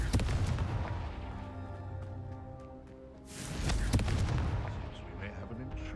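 Confringo fire spell blasts in the video game Hogwarts Legacy, two loud booming explosions a few seconds apart, each with a rumbling decay, over a continuous game background.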